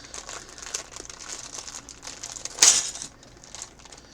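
A plastic bag crinkles on a table in soft, scattered rustles, with one louder crackling swell near the middle, close and alone with no talking.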